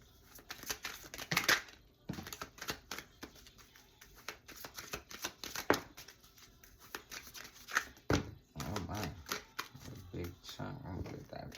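Index cards handled and shuffled close up, a run of crisp papery flicks and riffles in uneven bursts, with a voice speaking at points among them.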